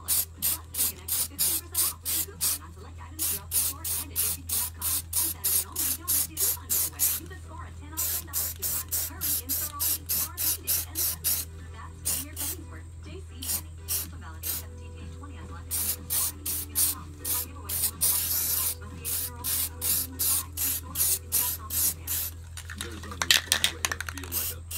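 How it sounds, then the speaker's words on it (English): Short bursts of Rust-Oleum flat gray primer hiss from a spray can in a rapid, regular series of close, sharp sprays, broken by a few brief gaps. "you can see that Rust-Oleum primer, flat gray. It dries in just a few minutes if I use it. So, test shot there."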